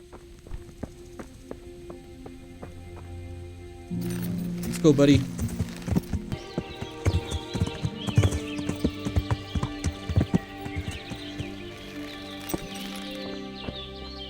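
Horse hooves in the video game Kingdom Come: Deliverance clip-clop at a steady trot under a short spoken phrase, with a brief whinny near the start and light ambient music behind.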